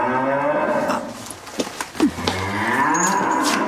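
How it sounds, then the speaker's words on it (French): A cow moos in long, drawn-out lowing calls, loud and close, in a scene with other ambient noise; no one speaks. "C'est pas un bœuf, c'est une vache."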